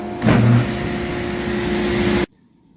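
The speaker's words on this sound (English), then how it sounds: "And we come over and turn on the saw." A table saw whines at a steady pitch after a brief surge as it starts, then the sound cuts off abruptly into near silence.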